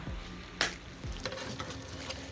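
Lasagna sauce sizzles in a small frying pan: a steady frying hiss with a few brief clatters and sharper crackles, close and moderately loud, no talk.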